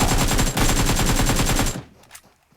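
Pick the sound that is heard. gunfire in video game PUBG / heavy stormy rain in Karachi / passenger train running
gunfire in video game PUBG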